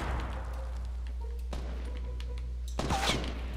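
Gunfire in the Fortnite video game sounds as a few sharp, fairly faint shots at irregular intervals, the last a louder burst, over a steady low background hum.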